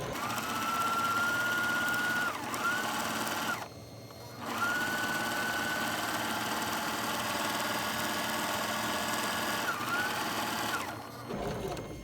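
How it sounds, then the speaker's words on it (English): A sewing machine runs long basting stitches along the top of a fabric ruffle, its motor whirring steadily up close, pausing briefly twice before starting again. "I finished running my basting stitches along the top of my ruffle"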